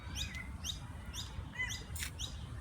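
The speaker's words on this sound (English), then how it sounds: "Let's see what this bird does." A bird chirps outdoors in a run of short, bright, repeated tweets, about six calls in quick succession, fairly close and clear over a low background rumble.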